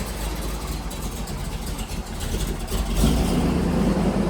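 A Mopar car engine idles after a carburetor rebuild, a steady, low rumbling idle close by that swells slightly louder toward the end.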